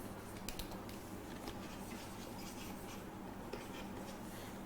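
Faint, steady scratching of a pen writing by hand, with soft irregular strokes and taps over a constant background hiss and no speech.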